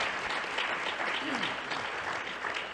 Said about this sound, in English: let's give them a round of applause for their great comments and their great experiences